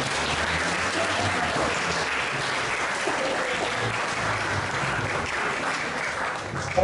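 An audience at a school presentation claps in steady, sustained applause for several seconds, filling the room at moderate volume.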